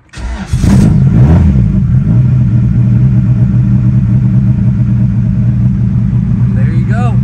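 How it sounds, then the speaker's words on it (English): A car engine cranks and fires up, then settles into a loud, steady running rumble close by, heard after a fuel leak repair, with a voice briefly in the background. "I'm gonna start it up just really quick, just not too long"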